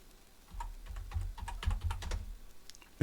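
Fingers type text on a computer keyboard, a quick run of close key clicks in uneven bursts that pause briefly near the end.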